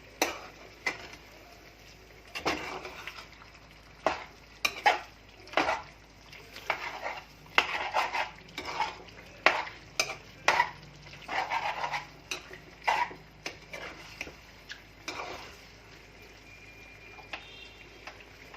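Chicken pieces being mixed in a pan for chicken fry make repeated scraping and clacking strokes of a utensil against the metal, in irregular bursts over a faint background sizzle, heard close with no talking.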